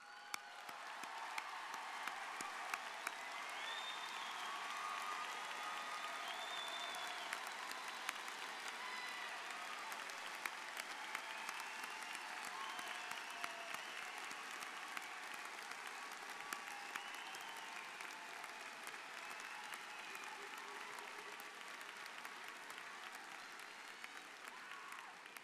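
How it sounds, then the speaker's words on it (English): A large crowd at the 2015 University of Washington Bothell commencement applauds the graduates, a long sustained wash of clapping heard from a distance, even and unbroken with faint scattered cheers. "and applaud their accomplishments"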